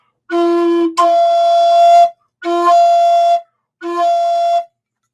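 A breathy wooden Native American flute plays a steady low note, then shifts to sharply higher, shrill overblown tones in three sustained blasts separated by short pauses.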